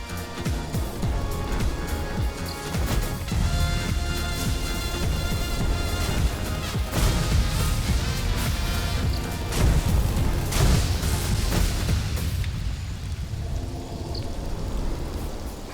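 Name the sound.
lightning spell hitting front door in Elementalism video game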